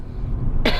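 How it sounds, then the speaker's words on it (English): A single short, sharp cough bursts out near the end after a quiet stretch of low background rumble, as though someone clears their chest beside a 2.4 i-VTEC Honda Accord Tourer estate. "I'm going to start coughing"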